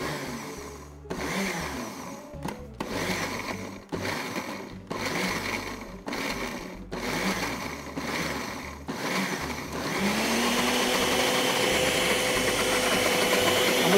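A kitchen blender whirs as oil is blended into a sauce, its motor cutting in and out in short bursts at first, then settling into one continuous, steady run.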